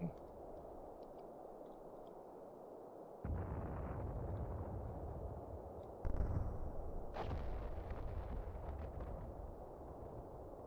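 Mortar fire in the WWII strategy game Combat Mission: Afrika Korps, heavy low booming bursts that step up in intensity and layer over a rumbling battlefield din, with crackling impacts toward the end.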